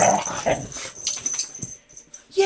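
Puppies whimper, yip and snuffle close by indoors, a run of small whines and sniffs with short pauses between them.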